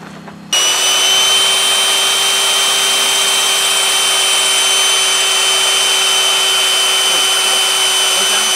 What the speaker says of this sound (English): drill through here, through the holes in the band, and make holes in the lining